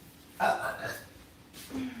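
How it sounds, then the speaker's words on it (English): A person standing and drinking tea lets out a throaty burp, a short loud burst followed by a quieter second belch a moment later, close and with nothing else around it. "That was a nice burp."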